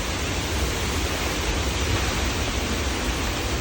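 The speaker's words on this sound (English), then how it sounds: "the wind is insane right now" Strong wind roaring during a severe storm, a dense, steady broadband rush with no breaks, fairly loud and heard alone without talking.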